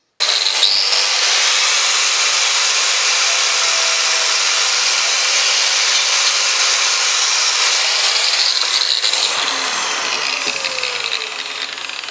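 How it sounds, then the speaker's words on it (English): A power tool sharpens knives made from old wrenches, giving a continuous loud, hissing grind that holds steady for several seconds before slowly tapering off. "So I think we'll just sharpen these and clean the handle up."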